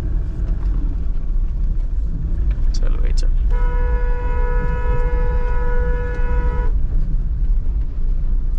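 Car horn sounding in congested traffic near a CNG fuel queue beside a 10-year-old Toyota Fortuner 3.0 4x4, a steady multi-tone blast lasting about three seconds over engine rumble and traffic noise.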